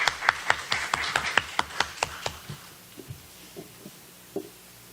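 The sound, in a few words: audience applause at a round-table event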